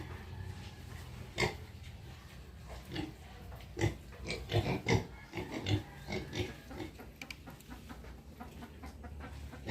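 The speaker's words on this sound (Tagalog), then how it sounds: "Yan naman po yung tatlong baboy na tinira namin" Pigs and piglets on a farm grunt and squeal in irregular bursts, clustering in the middle of the stretch, with hens clucking alongside them and a steady rustling farmyard background and no talking.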